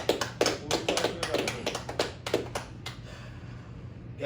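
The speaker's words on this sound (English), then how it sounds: "Clap it up." Several hands clap in a quick, uneven burst of sharp claps close by, then fade out and leave a low steady hum.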